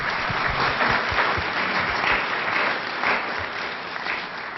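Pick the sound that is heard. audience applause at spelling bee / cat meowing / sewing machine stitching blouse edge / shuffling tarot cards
audience applause at spelling bee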